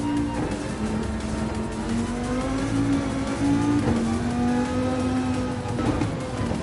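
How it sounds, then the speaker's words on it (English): A race car in a Nürburgring racing video game revs continuously at high pitch, its engine tone rising and settling through shifts with a faint whir, loud and close throughout. "Try to power through, shift on exit."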